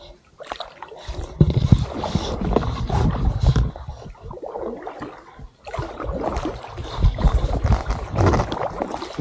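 Rowing a boat across a Finnish lake in a national park, with steady splashing oar strokes and water noise close by, broken by a short lull midway, while people talk now and then.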